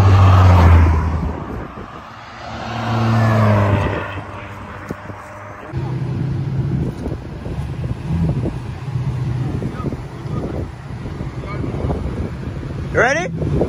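Audi RS5 turbo engine rumbling at a street race, deep low drone swelling and fading over wind noise, with people talking nearby and a brief high squeal near the end.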